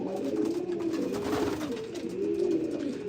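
A grizzle racing pigeon coos in a loft, a low throaty rolling call repeated about twice, close and fairly soft against quiet background.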